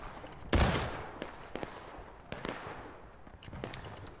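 Musket fire crackles across a battlefield in the Civil War game War of Rights, with one loud close shot and then scattered sharp reports, some near and some farther off, over about four seconds.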